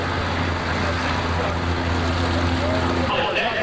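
A pulling tractor test motor runs at a 1988 Ohio State Fair super stock tractor pull, a steady droning engine note with harmonic hum that holds for about three seconds before cutting off.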